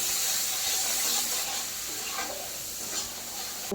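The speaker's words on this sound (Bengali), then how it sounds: "এটাকে ভালো করে কষিয়ে নেব।" Ginger, garlic and chilli paste sautés with fried onions in a pan, giving a soft steady sizzle and hiss with light stirring scrapes, fairly quiet and close.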